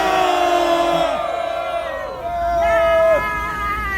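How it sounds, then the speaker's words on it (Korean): A large crowd at an outdoor denunciation rally and press conference roars with cheers and whoops, a loud, continuous swell of voices that shifts into sustained shouting, with no clear clapping standing out. "큰 함성과 박수로 시작하겠습니다."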